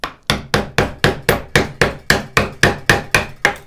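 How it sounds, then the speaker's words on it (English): Rapid, even series of about fourteen sharp hammer-like strikes on a screwdriver driven into a wooden tool handle, each hit loud and close with a short decay, no talking. "I'm actually going to be coming in here with a screwdriver"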